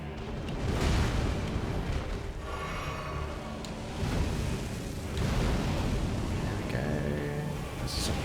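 A very large explosion erupts in Elden Ring combat, booming broad and loud and rolling on for several seconds amid other heavy battle rumbles.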